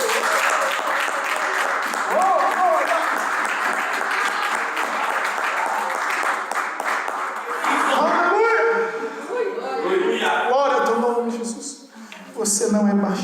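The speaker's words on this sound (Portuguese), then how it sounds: "Vamos aplaudir a pessoa." Church congregation applauding, a dense, sustained roll of clapping from many people that continues for several seconds, then thins into scattered claps mixed with voices, laughter and cheering.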